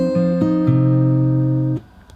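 Fingerstyle acoustic guitar picks out a short phrase of several plucked notes over a sustained bass, ringing cleanly and close before stopping abruptly near the end.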